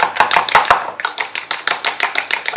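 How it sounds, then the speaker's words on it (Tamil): Eggs are whisked briskly with a fork for a traditional karandi omelette, making rapid rhythmic clicking taps against the bowl, close and fairly loud, with no voices. "இப்போ ஃபோக் வச்சு இது நல்லா அடிச்சுக்கோங்க"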